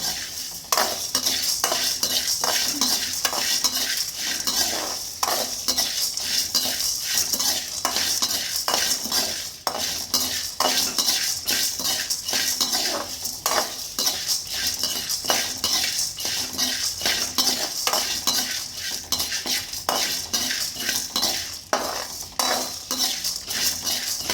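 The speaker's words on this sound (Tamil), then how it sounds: "நல்லா வறுக்கணுங்க." Idli podi ingredients dry roasting in a pan produce continuous loud scraping and rattling as a metal spoon stirs against the pan for over twenty seconds, with a faint sizzle underneath and no voices.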